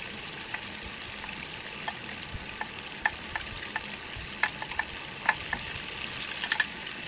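Chicken necks fry in hot oil in a constant close sizzle, with small pops and crackles breaking through now and then.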